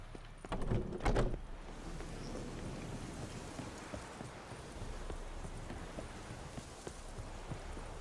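Horse hooves in The Witcher 3 video game, a quiet rhythmic clip-clop that starts with a couple of louder knocks and then carries on faintly over a steady ambient hiss.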